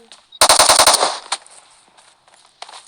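Firecrackers go off in a quick string of about eight sharp cracks, loud and close, followed by a few scattered fainter pops.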